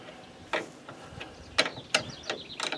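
A ratchet wrench loosening nuts and bolts on a GMC V12 engine, heard as several short, sharp bursts of ratcheting clicks at irregular intervals, close and clear against quiet surroundings.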